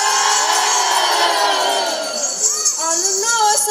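Crowd at a Romanian folk traditions festival shouting and cheering loudly after a call to shout, a broad sustained roar of voices with individual whoops rising near the end.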